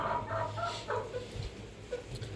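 Young barn chickens not yet laying eggs cluck in soft, irregular bursts close by, several short calls over a low background hum.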